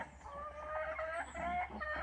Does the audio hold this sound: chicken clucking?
yes